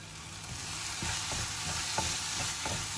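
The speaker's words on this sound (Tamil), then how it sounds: "இப்போது தக்காளி வந்து நல்லா வெந்து இந்த நெய் பிரிஞ்சு வரணும்" Tomatoes fry in ghee in a pan for mushroom masala, a steady broadband sizzle with periodic scraping stir strokes about every half second, close and fairly loud, no talk.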